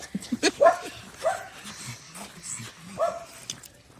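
A dog gives several short yips and whimpers indoors at a home, with brief bark-like bursts spaced irregularly, close by and mixed with faint background talk.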